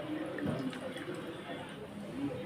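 Boiled hibiscus drink is strained, giving a quiet trickle and drip of liquid. It sounds faint and close, with a light splash partway through.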